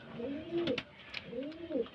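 Pigeons coo in two drawn-out, rising-and-falling phrases at a household loft, fairly close and moderately loud, with faint background noise and no clear talk.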